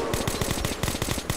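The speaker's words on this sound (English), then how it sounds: "That was the MG." Rapid machine gun fire in the video game Metro 2033 Redux, a fast, even stream of sharp shots running through the whole short burst, loud and close.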